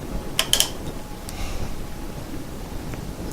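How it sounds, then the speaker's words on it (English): A small hand ratchet tightening a metal vise, giving a couple of quick, close metallic clicks near the start, followed by faint creaks and scraping handling noises. "Take my little ratchet here I keep for this purpose."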